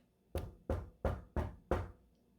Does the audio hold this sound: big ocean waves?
no